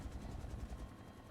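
Rotor thump of a UH-1 Huey helicopter in the X-Plane 11 flight simulator, a steady rhythmic low chopping drone heard alone at moderate, even volume.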